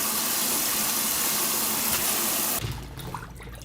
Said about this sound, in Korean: 물에다 씻으세요.